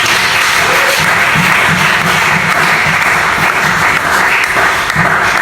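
A church congregation applauds and cheers steadily throughout, a dense, loud wash of clapping with no pauses and no clear speech over it.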